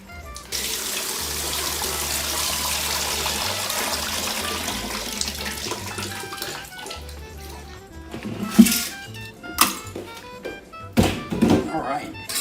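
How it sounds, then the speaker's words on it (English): Water pouring out of an overturned ice mold while making clear ice, a steady stream splashing into a sink, followed by several loud knocks and thumps. "And all the water to pour out."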